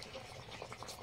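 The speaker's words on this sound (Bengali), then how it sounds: "ঝোলটা টকবক করে ফুটছে" Tangra fish curry boiling in a pot, a soft, continuous bubbling simmer heard up close at low volume.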